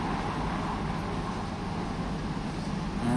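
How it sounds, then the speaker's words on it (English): Traffic passes on the street outside a long-established coffee merchant's shop: a steady, broad roar of cars without clear individual pass-bys, moderately loud and continuous, with no talk. "Excuse the noise of the cars."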